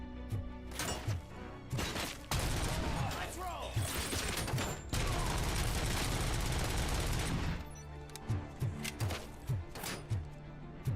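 Gunfire aimed at the player in a RoboCop video game: sharp scattered shots and thuds, then a dense sustained volley of automatic fire for several seconds, easing back into isolated impacts.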